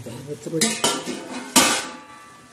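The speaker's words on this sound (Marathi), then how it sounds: "मस्त आता कोबी आपण हलवून घेऊया" Spicy cabbage cooking in a pan is stirred with a metal spoon, producing several sharp clanks and scrapes against the pan in an irregular rhythm, close and fairly loud.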